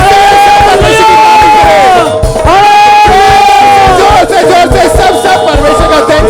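Church congregation at a testimony service shouting hallelujah together, loud and overlapping voices rising and falling in sustained group cries over a thumping musical backing.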